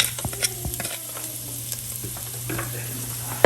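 Chopped garlic fries in oil in a pan for chicken Manchurian, giving a steady soft sizzle with scraping and stirring clicks from a utensil. No voices are heard.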